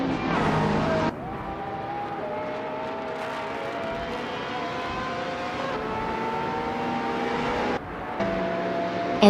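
Race cars at the Spa circuit, led by a 2018 Lamborghini Aventador SVJ, drone with steady engine tones that shift pitch as they run, a continuous loud roar broken by brief dips.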